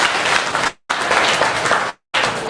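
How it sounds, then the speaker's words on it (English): A talk show audience breaks into loud, full applause, heard as dense clapping in three bursts separated by abrupt short silences. "Y'all give him a round of applause for that"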